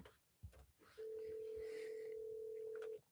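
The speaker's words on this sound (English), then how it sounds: "Phone is ringing." A telephone rings through a handset during a call, one long steady electronic tone lasting about two seconds, quiet and isolated after a brief click.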